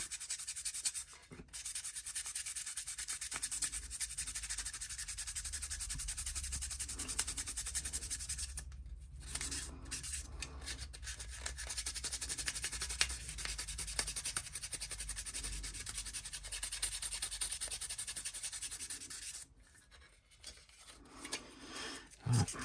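Steady dry rasping of sandpaper worked over the painted body of a 1/24 scale Aoshima Range Rover model kit, close and continuous with a few brief pauses, no talking.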